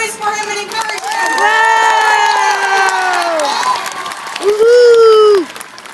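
Crowd at an aquarium show cheering, whooping and applauding loudly, with high excited shouts swelling over several seconds and a final burst of cheers before it cuts off.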